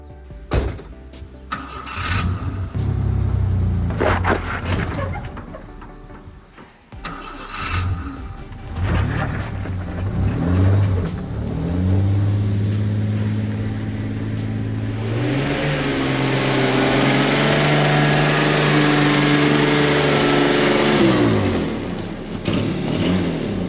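A 1987 Ford F-150 truck engine starts, stumbles and then revs hard and steadily while climbing a steep hill, loud and close, with a sustained strain toward the end.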